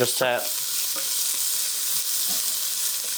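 Onions and mushrooms frying in a pan as a sauce base, giving a steady close sizzle, with a brief clatter of stirring near the start and light scraping touches later.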